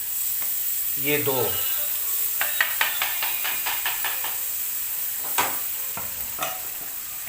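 Ginger garlic paste hits hot oil with a steady sizzle, broken by scraping stirs and a few sharp utensil knocks against the pan, with a few words of speech over it.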